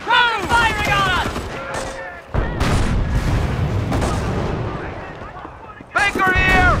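Bursts of rifle and machine-gun fire with booming impacts from a D-Day battle in Company of Heroes, loud and sustained, while soldiers shout over the gunfire at the start and end.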